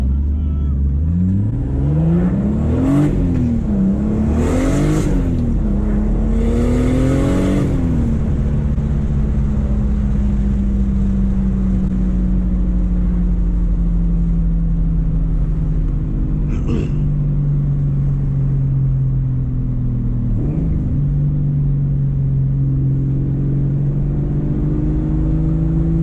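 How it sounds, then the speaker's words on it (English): A Mazda RX8 with a swapped-in Toyota 2JZ engine drives past close by, revving up through several quick rises and falls before settling into a deep, steady droning cruise, loud throughout. "Honestly, the sound of the 2Js is just so mean."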